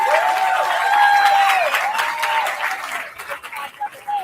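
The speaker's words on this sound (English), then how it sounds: "So once again, let's clap for that." Audience applause at a ribbon-cutting celebration for a completed first phase of a development, a crowd clapping steadily with cheering voices and whoops over it, fading out near the end.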